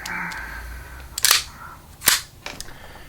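A Staccato C2 2011 pistol fires at an outdoor range, three sharp cracking shots spaced under a second apart, close and loud over faint background noise.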